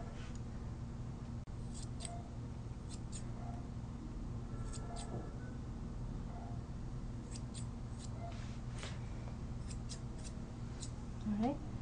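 Scissors trim a Yorkie's coat on the legs, a series of soft, quick snips in an uneven rhythm, close by and faint over a steady low room hum.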